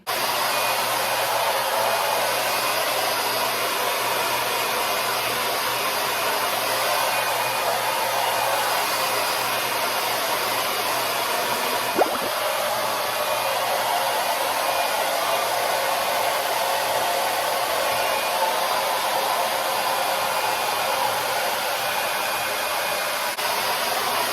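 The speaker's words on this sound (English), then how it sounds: "That's the kind of blow dryer I like to use on my hair." A hair dryer with a comb attachment runs steadily and close for the whole stretch, drying hair in a bathroom with a constant loud airy whir and no pauses.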